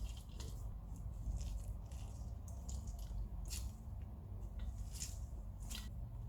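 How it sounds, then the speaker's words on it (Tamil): Grated beetroot is squeezed by hand to extract its juice, producing faint, close, wet squelches and dripping in an irregular rhythm. "இதை பிழிஞ்சு சாறு எடுத்துக்கலாம்."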